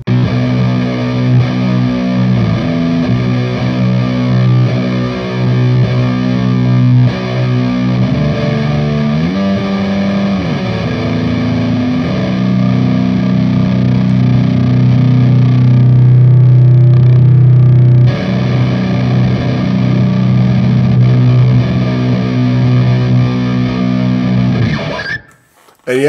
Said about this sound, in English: There's a overdrive on the Headrush that is called Anxiety Overdrive Volume 2 or Version 2.